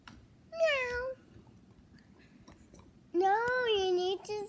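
A voice imitates a cat meowing, giving two clear meows: a short one near the start and a longer, drawn-out one later, separated by quiet.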